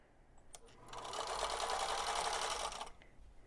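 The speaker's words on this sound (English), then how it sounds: "we're going to sew this together" A sewing machine stitches quilt block pieces for a rail fence pattern in one steady, close whirring run of about two seconds, starting and stopping cleanly in a quiet room.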